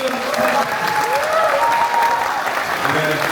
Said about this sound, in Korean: 뜨거운 박수 우리 이재준